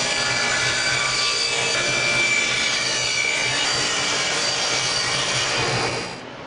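Wooden picket fence boards for a wall decor piece are sawn with a continuous, loud, rasping back-and-forth cut that fills the whole stretch before easing off at the end.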